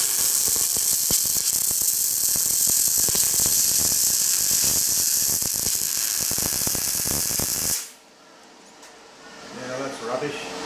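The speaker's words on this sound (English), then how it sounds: "I've got to do these welds" Steel frame of a Victorian-style garden bridge being arc welded, a loud steady crackling buzz with dense sputtering that runs for about eight seconds, then cuts off abruptly, leaving quiet room sound with faint clinks.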